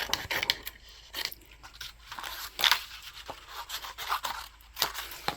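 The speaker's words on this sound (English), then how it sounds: "I'm going to just cut a smaller amount here" Designer paper is cut down to a smaller piece at close range, with a run of crisp, irregular snips and papery rustles.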